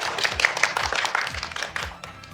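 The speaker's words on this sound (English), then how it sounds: "So big round of applause to her." An audience applauds in a talk setting, with a short burst of dense, overlapping clapping from a modest crowd that carries on steadily for a couple of seconds.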